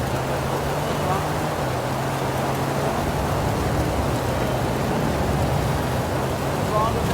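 Tropical storm rain in the racing game Forza Horizon 5 hisses as a steady, dense wash of noise over a low engine drone, constant throughout with no clear breaks.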